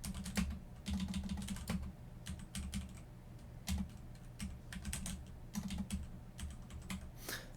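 Rapid keystrokes on a computer keyboard clatter in irregular bursts with short pauses, fairly close and moderately quiet over a low steady hum, with no talking.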